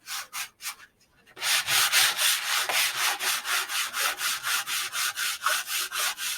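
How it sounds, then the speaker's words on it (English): Sandpaper rubbing wooden edges in a quick, even back-and-forth rhythm, loud and close, after a few short strokes and a brief pause. "take this sandpaper and start sanding the edges"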